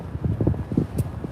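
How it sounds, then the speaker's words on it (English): Wind gusting straight into a microphone at Talking Stick Field, a spring training ballpark, giving close, loud, low buffeting rumbles in uneven pulses. "I'm trying to cover up the microphone with my hand with all the wind."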